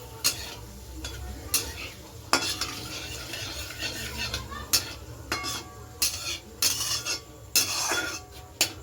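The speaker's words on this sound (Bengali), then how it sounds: "তেজপাতা আর জিরে ফোড়ন দিয়ে দিলাম।" Dry red chili, bay leaf and cumin tempering in hot oil after frying potatoes for a Bengali chicken kosha, with a steady close sizzle broken by repeated sharp scrapes and clinks of a spatula stirring in the pan.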